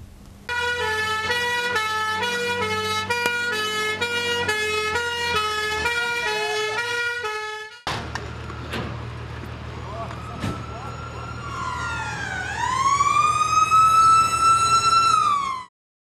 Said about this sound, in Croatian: Nakon što se školski alarm za slučaj požara oglasio